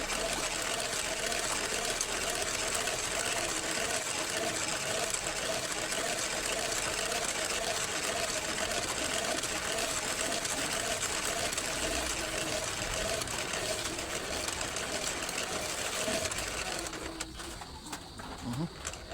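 A coil winding machine winds the copper coil for an exhaust fan motor, giving a steady, continuous whirring drone throughout, and it slows and fades near the end.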